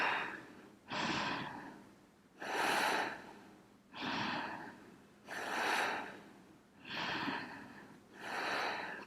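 Slow, deep breaths during a kundalini yoga exercise, six long rushing inhales and exhales in an even rhythm, close and clear with pauses between.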